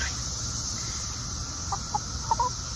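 Young 14-week-old hens in a backyard coop give a few short, soft clucks near the end over a steady hiss of outdoor background noise, faint and sparse.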